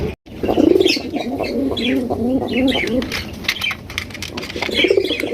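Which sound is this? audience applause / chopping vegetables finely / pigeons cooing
pigeons cooing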